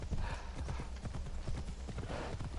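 A video game horse clip-clops along in a steady hoof rhythm over a thick low rumble, with a faint snort-like breath in the mix.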